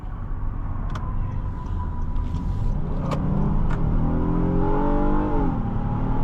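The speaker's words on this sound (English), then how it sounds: "look at that, how quickly it picks up for being a minivan" A 2023 Honda Odyssey Elite minivan with a V6 engine accelerates, heard from inside the cabin. The engine note holds steady, then climbs in pitch as revs build near the end, over a constant road and engine rumble.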